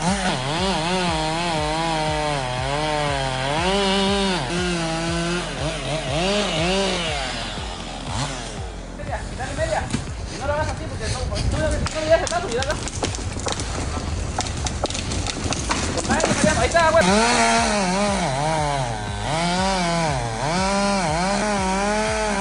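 A chainsaw cuts into a tree: the engine revs up and down with a wavering pitch, then gives way to a long stretch of rough, noisy cutting before the revving returns, loud and close throughout.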